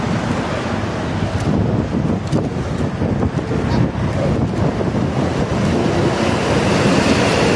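Steady wind roars across the microphone alongside a constant wash of surf, loud and unbroken for the whole stretch.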